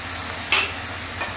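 Broccoli with onion stalks frying in a pan gives a steady, even sizzle, with one brief scrape of a stirring utensil partway through and a fainter clink near the end.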